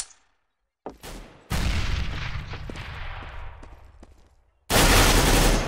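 Loud bursts of gunfire in Counter-Strike: Global Offensive on the Mirage map, with one sharp shot followed by a sustained rattling volley, and then another loud burst at the end.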